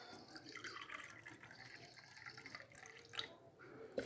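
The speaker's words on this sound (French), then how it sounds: "je vais rajouter les deux autres mesures d'eau" Water poured into a bowl of karantita batter made from chickpea flour, a soft trickling splash with light drips, faint and close, no talking.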